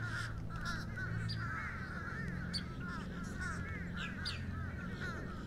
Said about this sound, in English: it's kind of hard not to be aware of the birds that are flowing around us